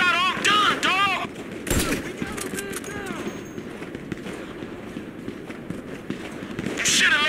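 Shots ring out in a GTA 5 firefight against snipers during a money truck heist, scattered sharp cracks among running footsteps, with excited voices talking loudly over the shooting.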